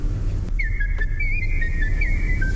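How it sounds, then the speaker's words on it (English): A person whistles a wavering, sliding tune in a single sustained line over a steady low background rumble. "Like I'll be sitting here whistling."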